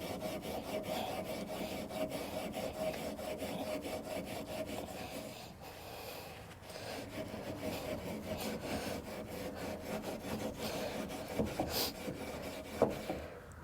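Rust is scrubbed off the mirror of a 1981 GMC 3500 truck with a continuous, close abrasive rubbing in quick back-and-forth strokes, with a few small knocks toward the end.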